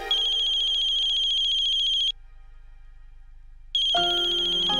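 Landline-style telephone ringtone in a Hindi TV drama household scene, a sustained electronic trill that rings for about two seconds, stops briefly, then resumes loudly with no talk over it.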